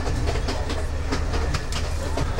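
A train runs along the rails, its steady loud rumble carrying rhythmic clickety-clack wheel beats every few tenths of a second, heard from inside with no voices.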